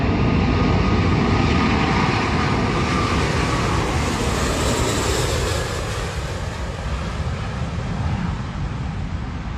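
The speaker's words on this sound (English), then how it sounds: "Watching the giant Airbus A380 lift off in low visibility," An Airbus A380 taking off in low visibility gives a loud, steady jet engine roar, dense and sustained throughout and easing slightly toward the end.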